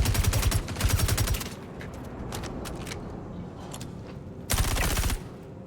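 Gunfire in the Star Citizen video game: rapid automatic bursts, two close together at the start, scattered single shots through the middle, then another loud burst near the end.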